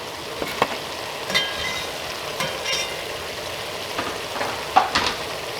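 Onions and garlic cooking down in a pot for shepherd's pie, a soft steady sizzle with faint stirring clicks and scrapes, no talking.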